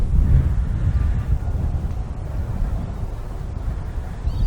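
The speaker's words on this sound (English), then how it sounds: "Now that wind is so strong across there" Strong wind blows across open water beside an angler's fishing spot, heard as a continuous, loud low rumble buffeting the microphone with no let-up and no speech.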